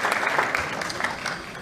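Audience applause at a sports awards evening for the FC Valentinois football team, a short stretch of steady, moderately loud clapping from a crowd.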